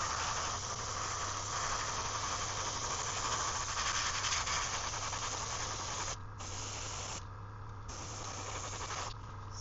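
An airbrush sprays base paint onto a 3D-printed rainbow trout lure, producing a steady close hiss with brief dips where the spray pauses near 6 and 7.5 seconds.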